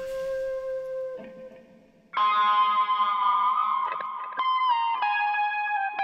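Sustained electric guitar chords wash out in lush Valhalla Vintage reverb and shimmering chorus, with an octave-up effect and echoing repeats trailing each strum; no voices.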